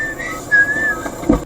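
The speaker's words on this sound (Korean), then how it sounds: "집에 가는 길에 기분이 좋아가지고 휘파람을 불었던 것 같아요." Short tuneful whistling by a person, played back from a car dashcam recording in a new Hyundai Santa Fe, a few sustained notes heard close and clear.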